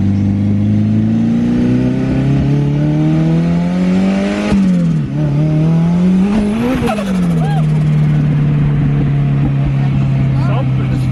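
A turbocharged, K20-swapped Toyota MR2 Spyder accelerates hard, heard loud from inside the car. Its engine note climbs steadily in pitch, breaks at two gear shifts and keeps pulling, with turbo boost building.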